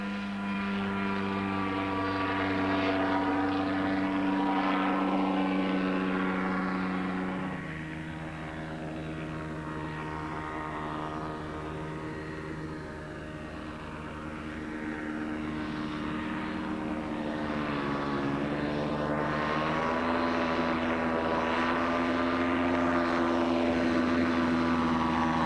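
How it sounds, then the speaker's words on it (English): A microcraft, a one-man air transporter, flies with a steady, loud propeller-engine drone whose pitch dips and rises over about twenty-five seconds, with no speech. "It's called a microcraft, a one-man air transporter."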